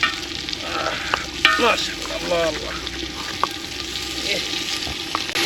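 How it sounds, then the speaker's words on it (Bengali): Turmeric, chili, coriander and ginger garlic paste sizzle in hot oil for duck curry while a spoon stirs and scrapes now and then. A voice talks over the steady frying. "সমস্ত সিক্রেট মশলা সমস্ত কিছু দিয়ে আমরা এখন কষে নিচ্ছি"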